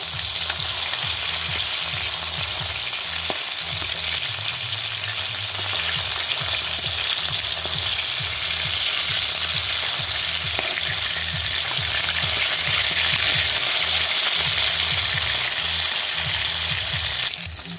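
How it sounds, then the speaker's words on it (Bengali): Snakehead fish fries in hot oil with a loud, steady, close sizzle that bubbles and crackles without pause, and no voices are heard. "মাছ ভাজা হয়ে গেছে এবার নামিয়ে নেব"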